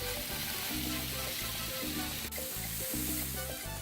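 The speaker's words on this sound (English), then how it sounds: "you can hear the sizzle" Pork chops sizzle steadily on a hot Blackstone griddle, a loud continuous frying hiss with faint crackles and no voices.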